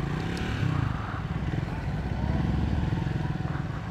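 A Triumph 400 motorcycle pulls away in third gear. Its engine holds a steady, lugging drone close to the rider, with wind and rumble mixed in and no gear changes. The source is a Triumph Scrambler 400X or Speed 400.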